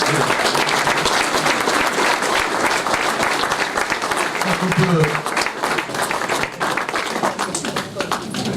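Loud crowd applause at a local ceremony in France, dense and continuous throughout, with someone speaking briefly over the clapping.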